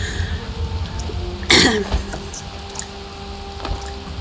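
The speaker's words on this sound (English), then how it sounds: "Excuse my cough." A single short cough bursts out over a low steady background hum, followed by quiet ambient noise.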